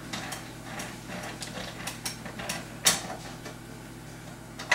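A ratchet wrench clicks in quick runs while bolts are removed from a drum's mesh head, close and fairly quiet, with a couple of sharper metallic snaps.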